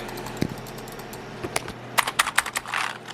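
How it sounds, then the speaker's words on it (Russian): Several computer keyboard keys such as Num Lock and Caps Lock are pressed on a frozen PC, giving short separate clicks, a few isolated and then a quicker cluster, close and fairly quiet with no talk. "На клавиатуре, если мы понажимаем нумлок, к примеру, как видите, ничего, никакой реакции."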